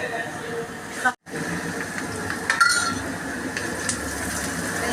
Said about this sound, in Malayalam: നല്ലോണം ഒന്ന് ഇളക്കി കൊടുക്കണം ഈ സവാള